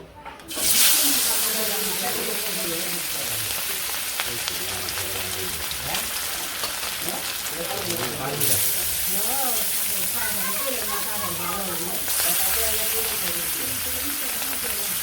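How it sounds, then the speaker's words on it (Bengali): Fish dropped into hot oil starts a loud, dense sizzle that continues steadily, and bursts of fresh spitting come in waves. Voices talk over the frying, and rain may be falling outside. "তেল গরম হয়ে গেছে এখন মাছগুলো দিয়ে দিই"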